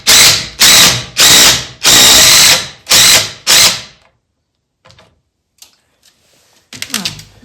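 A power drill drives screws into wood on a building job: six loud, close whirring bursts in quick succession, then near silence broken by a few faint clicks and a short rattle at the end.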